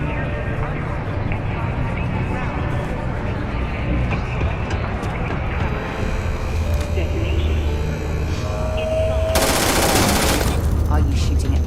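Continuous rapid gunfire rattles through a Starfield scene, a dense unbroken stream of shots with a brighter, louder burst near the end, and a voice speaks over it.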